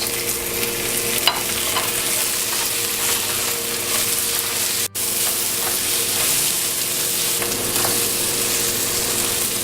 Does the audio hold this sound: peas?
yes